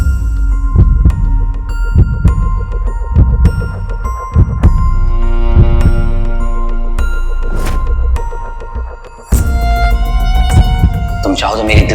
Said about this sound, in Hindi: तुम चाहो तो मेरी दिल की धड़कन को सुन भी सकती हो और महसूस भी कर सकती हो।